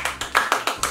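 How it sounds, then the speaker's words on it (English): Hands clap six times in an even, brisk rhythm, each sharp slap close and distinct with brief gaps between. "Clap harder."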